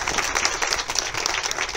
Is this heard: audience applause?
yes